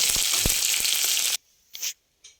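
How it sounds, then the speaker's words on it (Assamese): Chopped onions fry in a hot wok with dried chillies, giving a loud, bright, steady sizzle for over a second that cuts off abruptly, followed by two brief softer scraping stirs. "এতিয়া মই ইয়াতে দি দিম কাটি ৰখা পিঁয়াজখিনি। এইখিনি দি এতিয়া গল্ডেন ব্ৰাউন হোৱালৈকে অকণমান সময় ফ্ৰাই কৰি ল'ম।"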